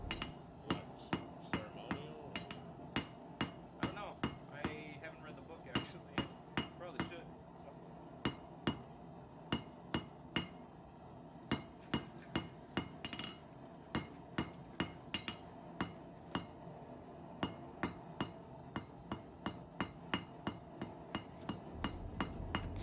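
A hammer strikes a bronze brooch bar, tapering it on a hard surface in a long run of sharp, ringing metallic blows. The blows come at an irregular but steady pace, some lighter than others.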